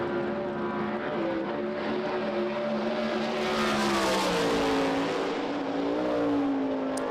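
A USAC Silver Crown race car running on the Springfield Mile dirt oval, a steady engine drone at sustained high revs that swells slightly as the car passes closer, then eases off.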